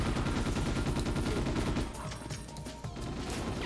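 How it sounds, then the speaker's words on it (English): Submachine gun fire in the Ghost in the Shell: S.A.C. video game, a rapid, steady burst of close, loud shots under a game soundtrack, then thinning into scattered shots and game effects. "I just pulled out the submachine gun"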